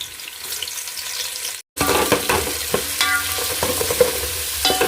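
Onion pieces fry and sizzle in hot oil for a chicken biryani, a loud, steady hiss with stirring scrapes and a brief break partway through.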